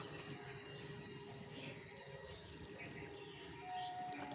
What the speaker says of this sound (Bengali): মাটিটাকে জল দিয়ে ভিজিয়ে নিব নিয়ে বসিয়ে দেব মাটিটাকে একদম ভিজিয়ে নেব